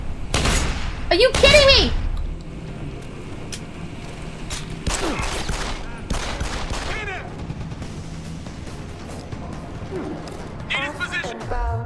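Bursts of video-game gunfire crack out in the first two seconds, with sparser shots later, mixed under excited talking players.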